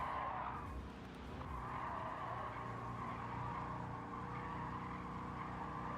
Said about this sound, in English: Swerved way off to the left and then lost control.